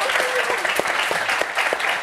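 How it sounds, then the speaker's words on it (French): Studio audience applauding a young boy guest on a French football TV show set, a steady dense wash of clapping lasting the whole moment, with a voice speaking over it. "On peut t'applaudir."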